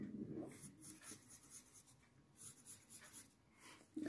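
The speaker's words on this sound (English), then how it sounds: "keep the pencil here and draw slant line like this and like this" Pencil drawing slant lines on paper, a series of soft, rhythmic scratching strokes close up and fairly quiet, with brief pauses between them.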